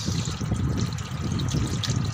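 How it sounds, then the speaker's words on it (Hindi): Water is poured over a soda machine to check it for leaks, giving a steady trickling, splashing flow with a low rumble beneath it, continuous and fairly close. "देखिए यहाँ पे इसके ऊपर पानी डाला जा रहा है"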